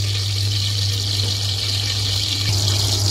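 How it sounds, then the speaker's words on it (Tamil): Refined oil being poured into a pan while cooking spicy prawn biriyani, a steady close liquid pour over a constant low hum, with no talking. "ஸோ அந்த ரீஃபண்ட் ஆயில் கொஞ்சம் ஊற்றிக்கலாம்."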